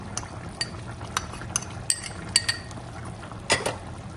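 Masala powder added to a simmering Telangana Natu Kodi chicken curry: a spoon clinks and scrapes against the pot at irregular intervals over a soft bubbling, stirring background, close and with no talking.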